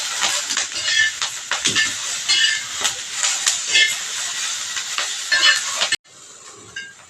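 Green chilies roast in a hot pan and are stirred steadily, giving a loud, continuous sizzle with repeated scraping strokes. The sound drops to a quieter hiss near the end.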